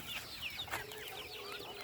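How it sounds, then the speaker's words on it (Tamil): Many small chicks peep and chirp together on a chicken farm in a busy, continuous chorus of high, quick calls, close by, with no talking. "இங்கே கோழி குஞ்சுகள்லாம் சீச்சிக்கிட்டு இருக்கு."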